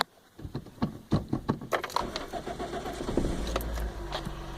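A car engine is started after a few clicks and small mechanical rattles, then cranks and catches into a steady idle that settles into a low, continuous rumble, with no speech.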